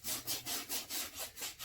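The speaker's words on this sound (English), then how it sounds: "scrub the shoe until we get a nice lather. Now again, this is a soft brush" A soft brush scrubs a suede shoe worked up with Reshoevn8r cleaner lather, giving a quick, steady back-and-forth rubbing of about eight even strokes, close and moderately loud with no talking.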